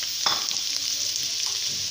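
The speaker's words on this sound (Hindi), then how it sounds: "अब ये गोल्डन हो गया है, इसमें अब मैं सब्जियाँ डालूँगी।" Vegetables sizzle steadily in oil in a frying pan for a chicken vegetable macaroni, with a few scraping stirs of a spatula cutting through the constant hiss; close and fairly loud, no talking.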